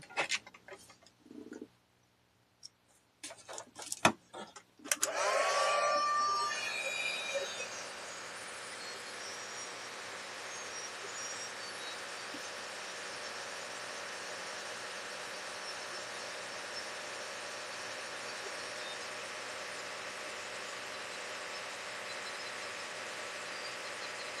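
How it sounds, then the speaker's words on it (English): A heat tool blows hot air steadily for a long stretch during a craft class project, a constant broadband whoosh after a few short clicks and handling knocks at the start. "I've got the heat tool on"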